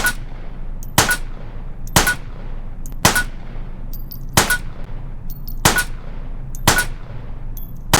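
Gunshots fired in the VR shooter H3VR during a shoot-the-imposter target mode, seven loud, sharp single shots spaced roughly one second apart with short ringing tails over a low background hum.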